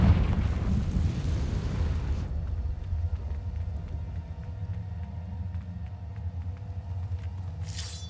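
Confringo fire spell in Hogwarts Legacy: a deep rumbling explosion that booms at the start and then fades into a low lingering rumble, with a brief bright flicker near the end.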